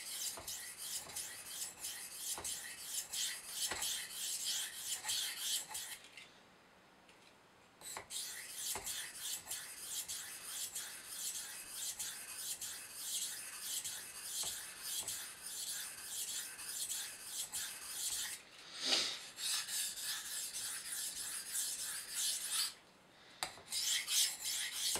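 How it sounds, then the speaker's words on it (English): A blade is sharpened freehand on a 1000 grit Japanese water stone, with faint rhythmic back-and-forth scraping strokes that carry on steadily, broken by a few short pauses. "I want to see what this 1000 grit edge is like on this Japanese water stone."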